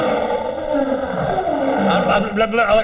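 A lion's roar in an old-time radio drama scene with a lion cage, a dense, rumbling growl that fills the moment without pause, loud and close, with no voices over it.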